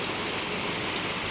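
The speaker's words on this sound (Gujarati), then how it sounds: "ધોધમાર વરસાદ છે ભાઈ" Heavy rain pours down in Jamnagar during the Navratri festival as a dense, unbroken hiss of falling water that stays loud and even throughout, with no voices.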